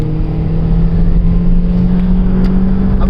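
A Volkswagen Polo GT TSI, driven at night in sport mode on kick-down, roars loudly with a steady, strong engine drone and no talking.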